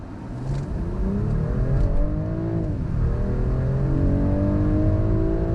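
A 2025 BMW X5 50e plug-in hybrid with a B58 engine accelerates hard from 30 to 70, its loud engine note climbing in pitch, dipping at a gear change and then rising again, close and steady with no talk.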